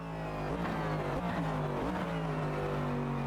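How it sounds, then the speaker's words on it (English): A race car's engine in Automobilista 2 revs and wavers continuously, with a fast chattering flutter from the ABS and traction control cutting in as the tyres slide, loud and steady with no talk. "we're going with the ABS and traction control noise"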